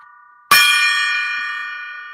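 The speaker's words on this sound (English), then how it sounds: "Let me ring the gong, the golden gong, 3 times. Listen to it resonate." A golden gong is struck once and rings out loud and close, its shimmering metallic tone sustaining and slowly fading over the following two seconds.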